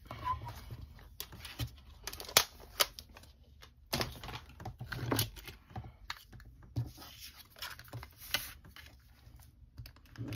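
Scissors cutting through cardstock scraps while making a layered fall sentiment card, a run of close, crisp snips and rustles at an uneven pace with short pauses between bursts.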